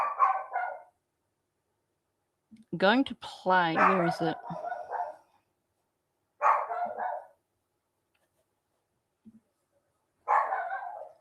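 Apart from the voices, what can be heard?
dog barking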